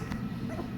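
Young puppies with newly opened eyes whimper close by, a short soft whine with a brief high squeak near the end, without talking.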